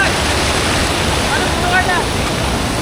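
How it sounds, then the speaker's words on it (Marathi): Strong, forceful river current rushes past a deep stretch of a village river used for crab catching near Murud. It makes a continuous close hiss and roar, with a few faint high chirps over the flow and no voices. "पाणी बघा समोर, पाण्याला फोर्स आहे"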